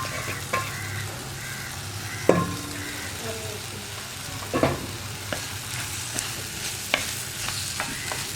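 Chopped okra frying in a pan with egg for a thoran, a steady close sizzle broken by scraping stirs and clinks of a spoon against the pan, with faint speech now and then.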